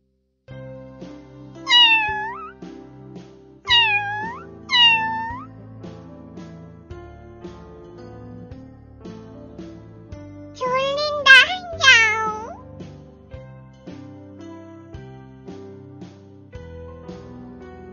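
An adult cat meows in several short bursts over soft background music in a children's math-play program, with a longer cluster of meows midway.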